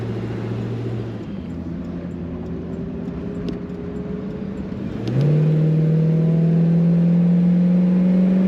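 A 1965 Ford Mustang convertible accelerates on the highway, its engine note climbing steadily in pitch and growing louder after a brief gear change, with a close, continuous rumble and no talking.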